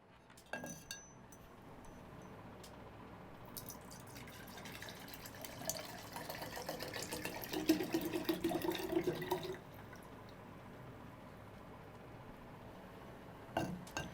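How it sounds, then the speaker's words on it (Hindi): Grape juice is poured from a glass vessel into a dozen Baghdad battery jars, a soft trickling stream with light clinks of glass, quiet and close, rising toward the middle then fading. "अब मैं उन सभी में अंगूर का रस डालने जा रहा हूं"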